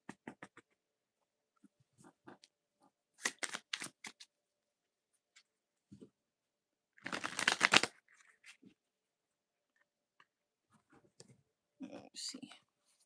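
Tarot cards being shuffled for a reading, with scattered soft clicks and brief bursts of riffling, one longer shuffle in the middle, all close and quiet with pauses between.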